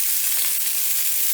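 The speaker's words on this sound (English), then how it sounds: "Now I'm going to throw in my onions, and here you can hear them sizzling." Onions sizzle and crackle in a hot pan as they are sautéed, a steady close frying hiss with no talk over it.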